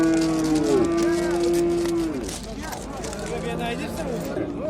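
Cattle at a busy livestock market moo loudly, one long sustained low call followed by more lowing, over a steady background of crowd chatter and people talking nearby.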